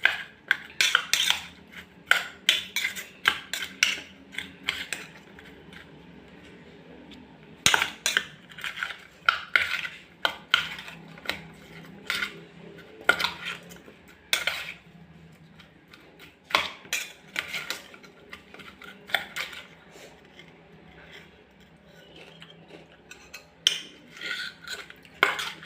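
A spoon clinks and scrapes against a bowl while tossing a salad, in irregular bursts of close, bright rattling separated by brief pauses, with no talking.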